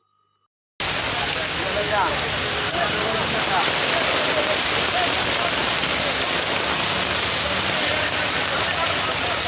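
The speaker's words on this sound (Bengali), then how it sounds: "অলরেডি বৃষ্টি নামে গেল" Heavy rain suddenly pours down outdoors on a street, a dense, loud, steady hiss of drops hitting surfaces that continues without letup.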